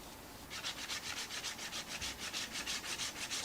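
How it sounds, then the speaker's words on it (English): Hand sanding a fiberglass body kit piece for a wide-body Peugeot 206 rally car: a quick run of about fifteen even back-and-forth rasping strokes, close and alone after a short quiet start. "So sanding these is kind of a little bit tricky because you don't want to break the pieces"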